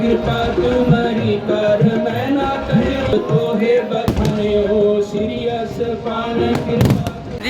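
Dense, continuous crackling and popping of fireworks at the Golden Temple, Amritsar, for Guru Ram Das's Prakash Purab, with occasional sharper bangs, amid a busy crowd murmur that persists throughout.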